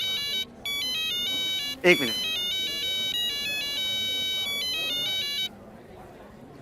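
A mobile phone ringtone plays a repeating electronic melody, loud and near, with someone speaking briefly over it partway through before the ringing stops.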